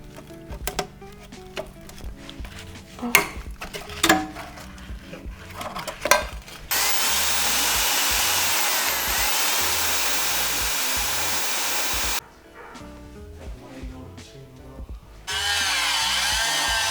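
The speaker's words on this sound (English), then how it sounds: "Here you can see Leon drill out the spot weld so we can remove the upper piece of the outer sill" A power drill bores out spot welds on the outer sill of a Volvo 850R during a restoration, with scattered clanks and knocks and then long, loud, steady whining drill runs that stop and restart.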